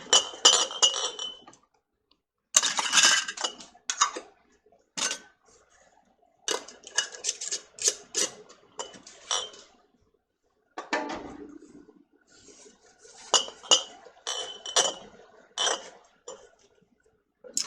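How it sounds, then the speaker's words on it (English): Glass canning jars for mock lemon pie filling clink and knock against metal lids and rings, with bursts of sharp close chinks broken by short pauses of silence. "wipe the rims of our jars and place our lids and our rings and get them into our hot canner"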